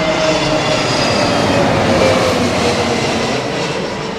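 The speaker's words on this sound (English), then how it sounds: "Another TAP Neojet." A TAP Air Portugal Airbus neo jet airliner at Heathrow gives a loud, steady, close engine roar with a faint high whine, sustained throughout with no voices.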